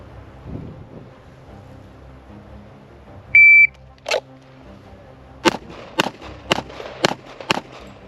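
Springfield TRP 1911 pistol firing five rounds in a timed qualification: a shot-timer beep, then sharp loud reports in quick succession, evenly spaced about half a second apart, with outdoor wind noise between.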